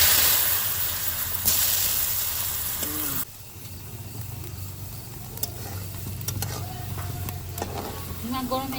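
Potatoes sizzle in hot oil in a pan for a Bengali katla fish curry with arum, with steady frying hiss and occasional spatula clicks as they are stirred. The level drops partway through while the frying continues.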